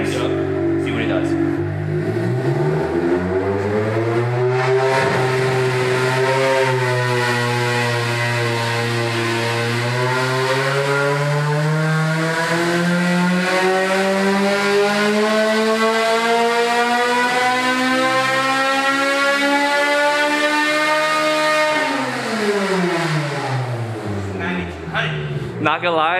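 Honda K24 engine fitted with a new header and new cams, revving hard and climbing steadily to 10,000 rpm, holding a loud, sustained high-pitched wail before dropping back down near the end.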